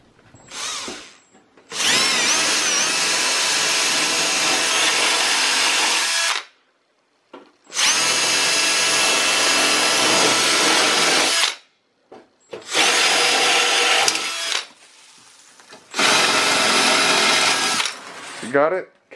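A power drill whirs loudly in four long bursts separated by short pauses while removing a hard drive cage from a Dell computer, the motor buzzing steadily each time it runs.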